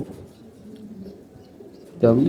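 Racing pigeons coo softly in a loft, a steady low murmur under faint background noise, ending in a sudden louder burst near the end.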